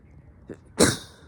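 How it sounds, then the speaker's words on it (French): A single close sneeze: a brief inhaled catch followed by a sharp, loud burst that quickly fades. "Et je vais éternuer."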